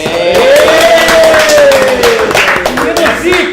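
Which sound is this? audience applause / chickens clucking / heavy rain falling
audience applause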